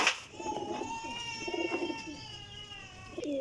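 A single large pigeon coos steadily in soft, rolling phrases, heard alone up close with faint background hum and no talking.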